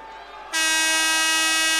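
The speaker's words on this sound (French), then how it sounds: "Les sifflets d'Antares, on réclame une faute sur Matt Morgan." Shrill crowd whistling of protest at a French pro basketball game, Le Mans against Bourg-en-Bresse, bursting in loudly halfway through and holding steady at full volume after a quieter arena murmur.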